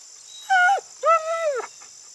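A frightened dog whimpers up close, two clear whining cries that each rise and then bend sharply downward, the second longer and wavering, set against quiet background.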